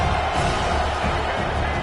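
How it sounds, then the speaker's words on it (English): A stadium crowd roars in a Madden American football video game during a tense fourth-down defensive stand, a dense, steady wall of cheering with no talking. "The crowd is roaring, trying to help this defense on 4th down."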